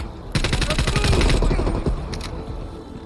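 Rapid automatic gunfire in Call of Duty: Cold War, a loud close burst of dense shots lasting about a second and a half, followed by a few scattered shots as it tails off.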